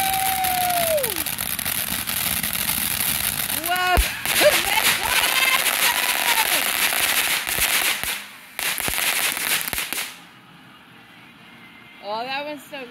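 Backyard fireworks on July 4th popping, crackling and burning, with rising whistles and dense crackle bursts, then quieting near the end, with people talking excitedly throughout.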